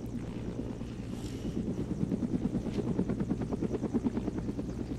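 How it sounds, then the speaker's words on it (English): Helicopter engines spinning up in a video game, a steady loud rotor thump with a rhythmic beating pulse and a constant low engine hum throughout. "And then start the engines."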